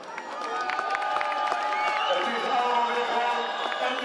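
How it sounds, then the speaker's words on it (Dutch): Crowd at the Breda light boat parade applauds and cheers, with scattered claps and voices mixed under a public address speaker talking. "Breda, geef dan een applaus"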